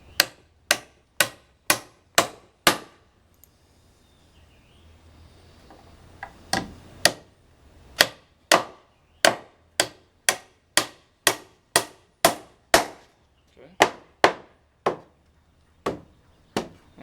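A hammer drives toenails through a rafter into the plate and joist, about twenty sharp, ringing close blows in quick steady bursts with a short pause in between, with no talking.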